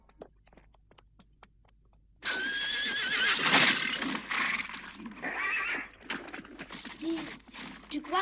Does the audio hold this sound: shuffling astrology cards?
no